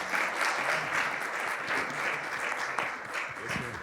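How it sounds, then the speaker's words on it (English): An audience gives a sustained round of applause, with dense, lively clapping filling the room evenly for several seconds. "can we have one more round of applause for Dr. Dickinson, Dr. Campos, and Mr. Garci"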